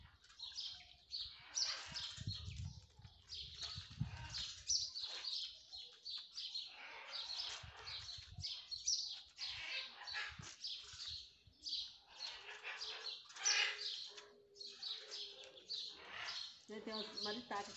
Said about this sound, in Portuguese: Tem umas maritacas aqui brigando